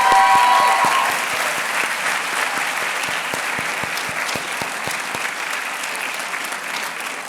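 Applause from a seated audience at a medical school white coat ceremony, loud and dense at first and then easing into steady lighter clapping with scattered individual claps standing out.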